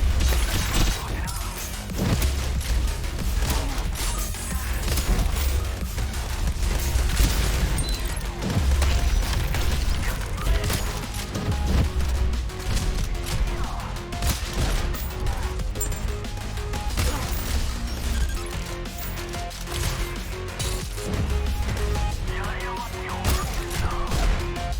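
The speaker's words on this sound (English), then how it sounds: "You have to be really precise with the rocket launcher." Rocket launcher shots and explosions in the video game Deadlink crash and boom almost nonstop, layered over driving game music in a loud, dense stretch of combat.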